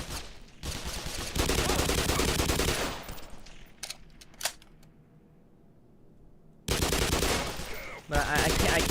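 Gunfire in the video game Half-Life comes as loud, dense rapid bursts of shots, then a quieter pause with a few sharp single cracks, then another loud burst near the end.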